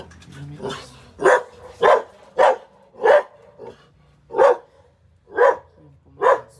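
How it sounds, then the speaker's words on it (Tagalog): A dog on a Baguio City road barks in sharp, evenly spaced single woofs, about eight in a row, loud and fairly close, with no one talking over it. "Ayan po, may aso."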